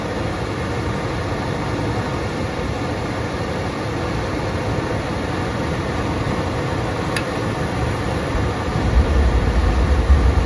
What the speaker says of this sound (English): That is a lit furnace. It lit right away.